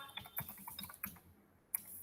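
Faint, close typing on a computer keyboard while entering text in a word processor: irregular light key clicks in short clusters, with a sharper tap near the end and no voices.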